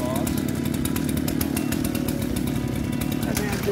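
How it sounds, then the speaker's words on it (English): A Stihl Magnum 44 chainsaw runs steadily at close range, a loud continuous buzzing engine drone that holds throughout with no break. "I guess I can show you what the Magnum 44 is. One of my favorite saws."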